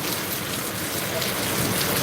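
Steady rain falls in a dense, even hiss of drops on surfaces, close and constant throughout.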